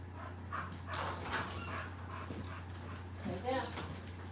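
A female puppy whimpers and yips softly indoors in short, high cries, partly under people talking nearby.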